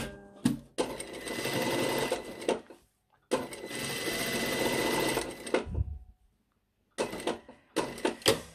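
A sewing machine stitches fabric in three separate bursts of fast, steady whirring. Short pauses fall between the runs, with small clicks and fabric handling in them. The machine is close and clear, and no voices are heard.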